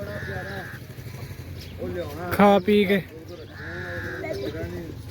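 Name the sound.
goats bleating returning home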